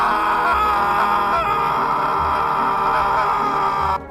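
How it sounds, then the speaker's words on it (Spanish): A horrible, drawn-out scream sound effect, loud and sustained for about four seconds with a wavering, strained tone, then cutting off abruptly, with no talking. "Escucharon el grito más horrible, que jamás hayan escuchado en sus vidas"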